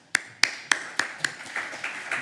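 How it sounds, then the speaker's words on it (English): Claps ring out in a conference hall, five sharp separate strikes at first, then several softer overlapping ones, like a small audience applauding after a name is announced. "So a big round of applause for him."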